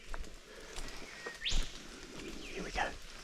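A single little shrike-thrush gives a few clear, rising whistled calls nearby in wet sclerophyll forest, with faint rustling in the background.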